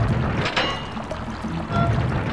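Water flowing through a valve in the Sly 2 video game on PS3: a steady, loud rushing and pouring stream that continues throughout without talk.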